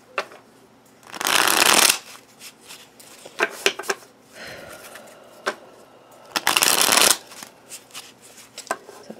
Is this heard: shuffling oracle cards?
yes